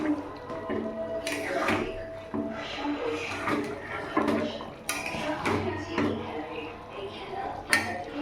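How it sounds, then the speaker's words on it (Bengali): A spoon stirs sweetener into a cooking pot of aloo dum, with light metallic clinks and scrapes against the pot at close range and a voice speaking at times. "মিষ্টিটা দিয়ে একটু নাড়িয়ে দিলাম।"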